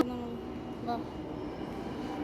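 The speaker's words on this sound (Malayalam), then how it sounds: "അപ്പോഴേ മെട്രോ വന്നുണ്ട് ഞങ്ങളുടെ." A steady low rumble and hum of a metro train fills the space, with a faint tonal whine rising briefly midway.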